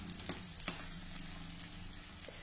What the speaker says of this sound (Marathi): थोडा थोडा डिंक घेऊन असा छान तळून घ्या।